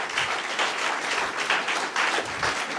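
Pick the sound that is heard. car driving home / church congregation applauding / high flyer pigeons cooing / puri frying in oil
church congregation applauding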